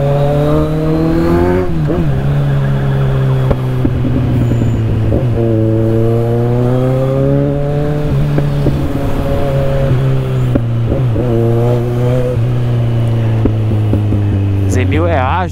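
A Kawasaki Z1000 motorcycle is ridden through São Paulo traffic, the engine loud and close, its pitch rising and falling as the rider accelerates and shifts in repeated surges. Wind and road noise run underneath.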